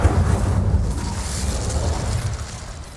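An Incendio fire spell bursts out in Hogwarts Legacy, a soft whooshing flare with a low rumbling boom that fades gradually over a few seconds.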